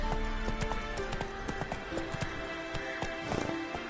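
Hooves pound rapidly as a horse gallops in The Witcher 3, a dense close rhythm of clip-clops over game music and ambience for a few seconds.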